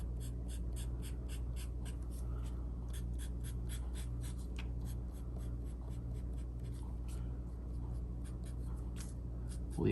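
A pencil or marker draws short strokes on paper for the veins of leaves, a quick series of light, scratchy scribbles repeating in close, steady rhythm over a quiet background.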